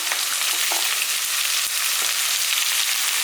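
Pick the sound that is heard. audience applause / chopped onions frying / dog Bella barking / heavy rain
chopped onions frying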